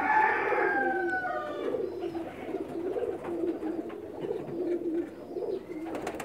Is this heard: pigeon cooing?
yes